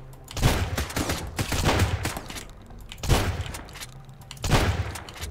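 Shotgun blasts in the video game Sunkenland, four heavy booming shots spaced about a second apart, loud and close, each trailing into a rumbling decay.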